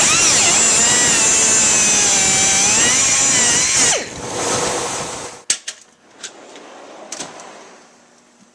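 A loud power drill with a paddle bit whines steadily through wood for several seconds, winds down, then a few sharp knocks and clatters follow in quiet.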